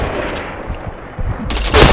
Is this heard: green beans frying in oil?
no